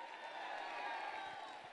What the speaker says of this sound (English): Give a huge round of applause to yourselves.